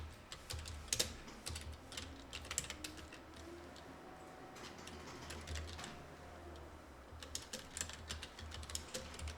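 Keys on a computer keyboard tap in quick, uneven bursts with short pauses between words, quiet and close in an otherwise still room.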